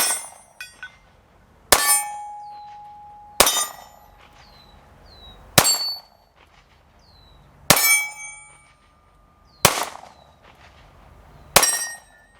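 Six sharp, loud pistol shots from a Springfield Hellcat Pro Comp handgun, spaced roughly two seconds apart, each a hard crack followed by a ringing decay, with no talking.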